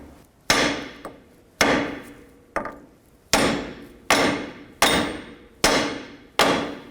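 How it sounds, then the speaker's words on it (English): Eight sharp hammer blows strike the steering knuckle of a 2002–07 Jeep Liberty front suspension to pop the ball joint loose, each a loud metallic whack with a short ringing decay, spaced roughly every second, with no talking. "I'm going to go ahead and smack the side of the knuckle here, and this should release the ball joint"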